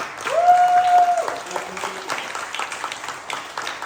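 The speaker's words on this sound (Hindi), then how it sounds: "उनके हौसला अफजाई के लिए जोरदार तालियां" Audience at a stage comedy play, Babu Viranchilal, gives moderate clapping for new actors, with a sustained tonal whistle-like sound early on above the scattered claps.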